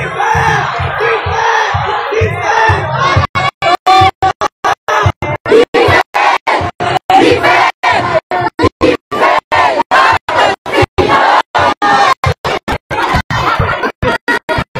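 A street rally crowd protesting against the president shouts and cries out in a loud, chaotic jumble of voices. Sharp bursts break off abruptly and restart in choppy fragments.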